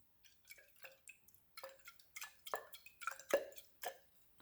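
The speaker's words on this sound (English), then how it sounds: "let's give it a good rinse." Water rinsing laboratory glassware after a copper sulfate and hydrogen peroxide catalyst reaction, with irregular drips and small splashes landing close by, a denser cluster near the end, and no talk.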